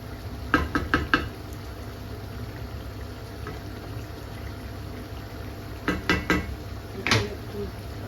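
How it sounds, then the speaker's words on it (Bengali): Egg and tomatoes cook in a pan with a soft steady sizzle, broken by several quick clusters of utensil clinks and knocks against the pan, close by. "তো ডিমটা দিয়ে এখন রান্না করতেছি এগুলা টমাটো দিছি"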